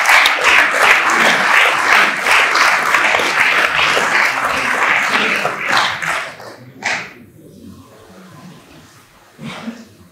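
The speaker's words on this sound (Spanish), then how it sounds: "pues un aplauso bien fuerte para los" Loud, dense applause from an audience at an awards gala honouring recortadores, the bull-leaping performers, sustained for about six seconds and then thinning to scattered claps and a few isolated bursts.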